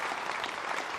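Snooker crowd at the 2016 International Championship final, Selby against Ding Junhui, applauding a key ball: a brief, steady burst of polite clapping from the arena audience, moderately distant, with no speech.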